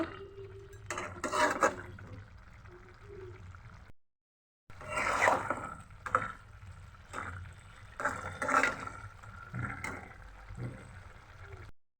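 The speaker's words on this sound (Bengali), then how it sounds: "আর তরকারিটা একবার নেড়ে দিচ্ছি।" A spoon stirs vegetable curry with dried fish in a pot, producing a series of soft metallic scrapes and clinks with a brief pause partway through, quiet and close.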